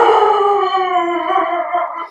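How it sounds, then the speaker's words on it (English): Dogs howling inside a podcast studio, a loud, close, sustained howl that wavers slightly in pitch for about two seconds. "Man, we got dogs in the studio."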